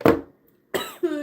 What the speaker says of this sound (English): I'll finish coughing in a second